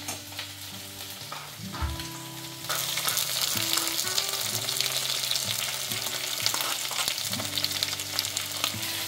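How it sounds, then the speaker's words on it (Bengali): Moringa drumsticks and potato pieces frying in a pan for a poppy seed curry. The sizzle turns into a loud, dense crackle after about three seconds and continues steadily alongside stirring, with a low tonal hum in the background. "ডাঁটা আর আলু দুটোই একটু বেশ ভাজা ভাজা হয়ে গেছে"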